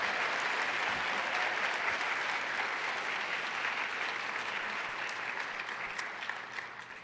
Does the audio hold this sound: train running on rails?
no